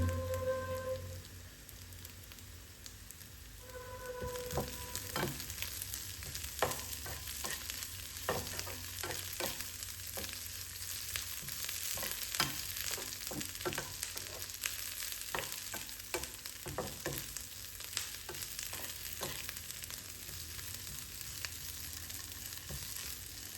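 Garlic and curry leaves frying in a pan, a steady close sizzle throughout with repeated scraping and clinking of a spoon as they are stirred, no voices.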